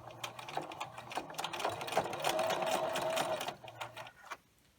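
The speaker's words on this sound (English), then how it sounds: "you're going to edge stitch close to the end" Sewing machine edge stitching along a fabric tube for a catnip cat pillow kicker toy, a steady close mechanical whir with rapid needle ticks that speeds up, runs evenly, then slows and stops near the end.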